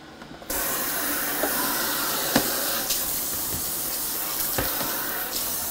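Kitchen tap water runs steadily in a rinse at a sink during a red snapper cooking session, starting abruptly after a brief quiet moment and holding as a constant close hiss with a few small splashes.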